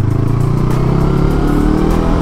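An FKM Expres 500 SC motorcycle engine drones loudly and close on a city test ride, a steady, throbbing mid-pitched rumble with a slight rise in revs, no talking.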